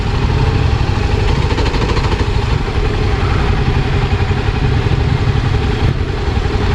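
A motorbike engine idles loudly and close by in a bike parking area in the Cameron Highlands, Malaysia, a continuous low, rumbling putter with some mechanical clatter, with no voices.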